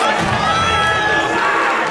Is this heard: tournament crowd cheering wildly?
yes